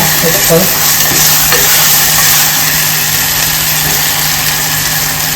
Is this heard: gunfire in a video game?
no